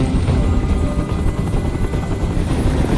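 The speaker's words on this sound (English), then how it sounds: "I can't stand that noise anymore. Tell that helicopter to get out of here." A helicopter hovers overhead in the video game Detroit: Become Human, its loud, dense rotor thrum continuous and close throughout with no pauses.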